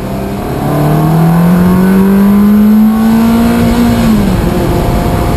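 A Ferrari 360 Spider engine revs hard and close, its loud note climbing steadily through the rpm range, then dropping sharply at a gear shift and settling into a steady drone.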